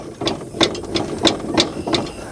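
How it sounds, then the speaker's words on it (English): Worn suspension bushings on an ATV clunk in a steady series of about seven sharp knocks, roughly a third of a second apart, close and fairly loud with a metallic ring over a low rumble. "That's that clunking you'll see when your bushings get worn out"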